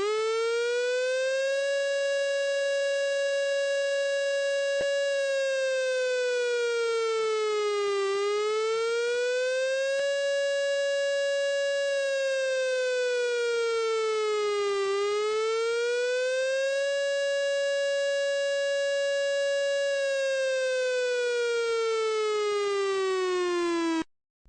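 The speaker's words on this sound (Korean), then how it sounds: "이런 경보음은 공습 경보를 말하며 지하 대피소 등 안전한 곳으로 즉시 대피해야 합니다." A civil defense air raid warning siren wails alone, a loud, pure rising-and-falling tone that holds high for several seconds before dipping, repeating in long, slow cycles for over twenty seconds.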